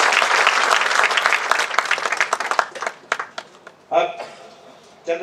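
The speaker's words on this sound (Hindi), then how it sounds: "जोरदार तालियां संगीता वर्धन जी के लिए।" An audience at a Mumbai stage event claps loudly to welcome actress Sangeeta Vardhan, the dense applause thinning into scattered claps before fading, with a voice briefly heard near the end.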